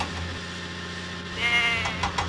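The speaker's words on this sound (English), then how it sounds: "Show Cranky where the goats are." Goats bleat in a Thomas and Friends Lift Load & Haul video game: a couple of short, nasal bleats rise near the end over a soft, steady background hum.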